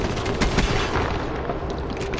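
A grenade explosion in a video game lands as a dense, booming rumble among scattered shots, loud and sustained across the moment with no clear speech.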